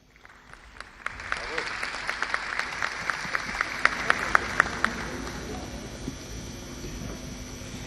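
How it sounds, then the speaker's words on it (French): Audience at a film festival closing ceremony in Cameroon applauding loudly, a dense wash of clapping that swells after the first second, holds steady with sharp individual claps standing out, then slowly thins toward the end. "Est-ce qu'on peut encore applaudir très fort pour elle?"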